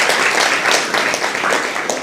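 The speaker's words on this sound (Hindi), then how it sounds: "तालियां तो बजनी चाहिए" Close, dense clapping from an audience of schoolgirls at an NSS camp at a government girls' inter college in Rishikesh. The applause comes in a brief, loud burst with a rapid pulsing rhythm.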